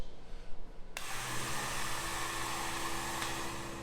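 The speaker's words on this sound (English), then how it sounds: "put a little powered winch on some rollers" A small powered winch mounted on rollers along a length of box rail starts up and runs with a steady close motor whine and hum, continuous after a sudden start, with no talking.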